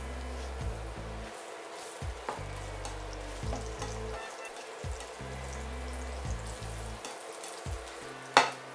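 Garlic sizzles in hot oil in a pan for Thai beef, a steady frying crackle with brief stirring clatters and a sharp clink near the end.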